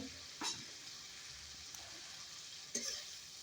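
Tomato and sliced green chilies are stirred into spices frying in a pan, with a steady soft sizzle underneath and two brief scraping strokes of the spoon.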